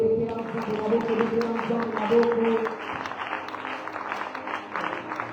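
A church congregation claps and cheers in praise of the Lord, a dense stretch of applause mixed with raised voices and a sustained sung or shouted tone, fairly loud and continuous.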